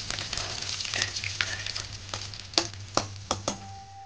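Curry leaves dropped into hot oil with bay leaf, cloves, cinnamon, black cardamom and pepper for a chicken curry, a faint crackling sizzle with a few sharp pops and spoon clicks near the end, over a low hum.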